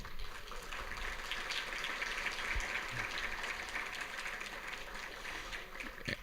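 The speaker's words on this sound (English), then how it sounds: "please join me in a round of applause to thank all of our sponsors listed on the screen" A faint, distant round of audience applause for event sponsors at a panel gathering, a steady soft patter of many hands clapping with no voices over it.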